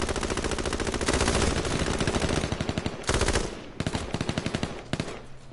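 Rapid automatic gunfire in the video game H1Z1 on PS4, long loud sustained bursts with brief pauses between, then shorter volleys near the end, with no voices over it.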